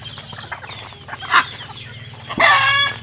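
Native chickens in a coop cluck in a low, steady chatter, with a louder squawk near the middle and a sharp, bright call toward the end.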